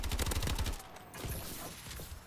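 Rapid automatic gunfire from the video game Call of Duty: Advanced Warfare rattles loud and close in a dense burst, then cuts off, leaving softer shots and game noise trailing behind.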